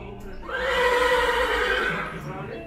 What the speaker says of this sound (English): Ahmed and his sons tend to his Arabian horses. He owns 12 of them.